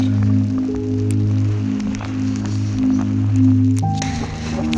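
Water is let out from a release point and pours downward in a steady, loud rushing wash with a constant droning undertone, shifting briefly near the end.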